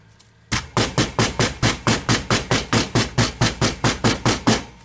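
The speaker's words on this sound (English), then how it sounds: "Use a hammer." Steady, rapid hammer blows packing sand into a casting mold, about sixteen evenly spaced thuds in a row, loud and close with no talking.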